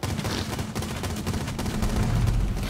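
Rapid gunfire in the tactical shooter video game Rainbow Six, dense bursts of loud cracks with booming low thumps that build toward the end, continuous and close with no talking.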